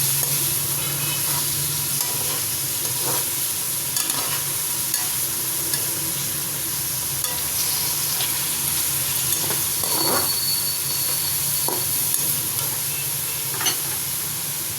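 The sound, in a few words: chicken being stir-fried and sizzling in a pan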